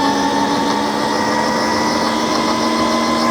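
A HiKNIGHT GTX1 mini electric dirt bike climbs a hill under load, its electric motor giving a steady, loud high-pitched whine with a constant tone and no pauses.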